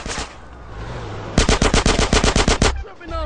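Automatic gunfire in GTA San Andreas: a loud, rapid burst of about ten evenly spaced shots follows a stretch of background game noise.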